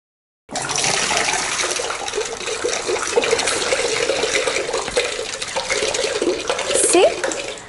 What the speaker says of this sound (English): it took only 7 seconds to empty the water from the bottle into the vessel